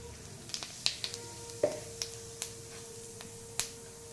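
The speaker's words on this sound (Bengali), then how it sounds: "তার আগে আমি দিয়ে দেবো একটু গোটা জিরে" Whole cumin seeds crackle and sizzle in hot oil left from frying fish, with sharp scattered pops over a faint steady hiss, close and fairly quiet.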